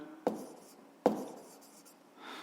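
A pen writing on paper during a fifth-grade maths exercise: two distinct scratchy strokes, each trailing into softer scraping, quiet and close.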